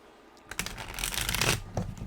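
A deck of tarot cards is shuffled close by in a chunky shuffle, a brief dense flurry of riffling and flopping that starts after a quiet moment and ends with a few soft taps.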